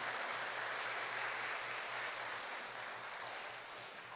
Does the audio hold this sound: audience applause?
yes